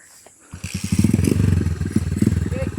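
Motorcycle starting up and pulling away close by, its engine putting out a rapid, loud, throbbing putter that holds steady for a couple of seconds.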